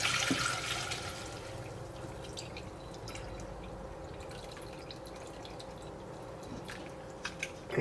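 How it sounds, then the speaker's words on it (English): Hot homemade chicken stock drains through a strainer, a steady liquid rush and trickle that begins louder and settles into a continuous pour, with a few faint drips and clinks near the end. "we are going to strain it out now and separate chicken from broth"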